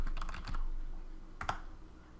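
Quick keystrokes on a computer keyboard as a command is typed, a short burst of clicks followed by a pause and then a couple of sharper final taps, close and fairly quiet.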